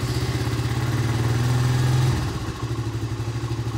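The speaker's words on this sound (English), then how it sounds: "Let's see if she wants to start." A Honda Big Red 250 ATC engine runs in cold weather with the choke on, a low, steady, chugging idle. It stumbles briefly, then picks back up to a rough, even run, close and loud throughout.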